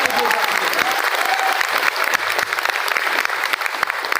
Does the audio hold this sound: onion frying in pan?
no